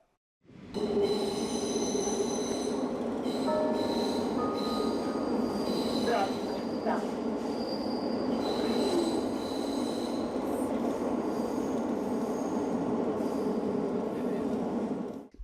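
A moving train screeches steadily as its wheels squeal against the rails, a continuous loud metallic whine with sustained high-pitched tones over a rumbling roar that lasts throughout.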